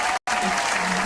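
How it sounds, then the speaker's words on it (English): A studio audience on a morning television show applauds a singer's performance, a short burst of clapping broken by a brief dropout. "You can hear the audience applauding you,"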